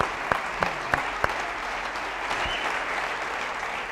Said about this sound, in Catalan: Albert Càmera, Manel Comas, Albert Càmera, un fort aplaudiment per tots dos, per estar aquí amb nosaltres.